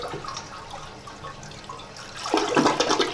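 Rusty water runs from a tap in a home in Thailand, a faint trickle that swells into a louder gushing splash in the final second, with no voices.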